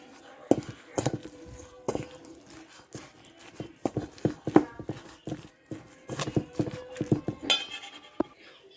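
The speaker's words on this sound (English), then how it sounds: "we're just going to give that a good mix" Salmon patty mixture with cornmeal is mixed in a bowl, producing irregular close clicks, knocks and scraping of a utensil against the dish, with brief breaks between strokes.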